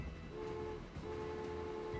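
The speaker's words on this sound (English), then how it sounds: "The third train's coming down the tracks now." Trains rolling down the tracks in the Transport Fever video game give a steady, close rumble with sustained tonal hum, a brief dip near the middle, then continuing evenly.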